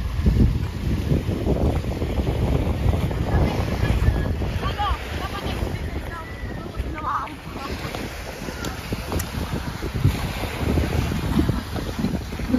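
Strong wind buffets the microphone at Dinahican Fish Port over lapping water and a distant boat engine, a constant gusty roar with no clear speech.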